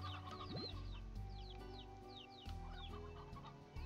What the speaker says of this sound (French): Oui, vous voyez les poulets, hein